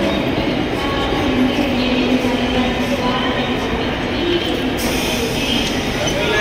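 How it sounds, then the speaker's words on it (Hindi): A train pulling into a station, a steady loud rumble of wheels and carriages with a faint squeal, continuous throughout and heard close on the platform. "तो दोस्तों फाइनली ट्रेन आ गई है"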